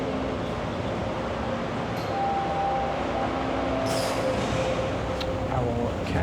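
Late-night ride on a Toronto TTC subway train near Lansdowne: a constant loud rumble of wheels on track with a thin motor whine rising and falling, and a few faint squeals, close and enveloping.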